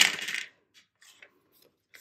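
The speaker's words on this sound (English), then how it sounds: "We're going to use our pink sparkly dice today." Pink sparkly dice tumbling onto a hard surface: a bright clattering rattle for half a second, then a few small scattered clicks and taps as they settle and come to rest, no talk.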